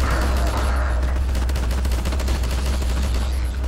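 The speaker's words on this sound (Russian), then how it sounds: "Звук лагает у пулемета." Rapid machine gun fire rattles in the Half-Life 2 video game on the original Xbox, sounding as a dense, continuous burst of loud shots with a heavy low rumble beneath, lasting several seconds with no pause.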